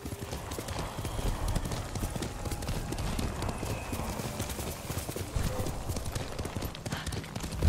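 Horse hooves clip-clop steadily from a ridden horse in Ghost of Tsushima, a feudal Japan samurai video game, with occasional whinnies over a dense, continuous game soundscape of ambience and music.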